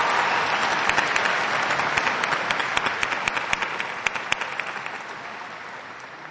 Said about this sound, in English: Let's give a round of applause in appreciation for the support you have received.